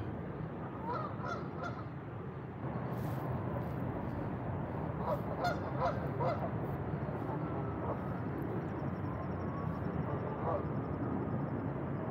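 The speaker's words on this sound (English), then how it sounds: "They're all coming back to the pond." Geese honk repeatedly as they return to a pond, over a steady wind-like rumble, scattered calls rising in the middle, with a voice talking quietly beneath.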